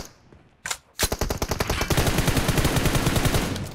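Automatic gunfire in PUBG Mobile: a single sharp shot, a short pause, then a long rapid burst of evenly spaced rounds, loud and close, running to the end.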